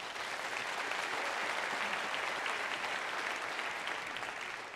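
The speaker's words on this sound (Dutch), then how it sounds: "Geef ze alvast een hartelijk applaus." Warm, sustained audience applause for musicians at a Christmas Eve concert in Dronten, a dense steady wash of many hands clapping at full strength throughout with no voices standing out.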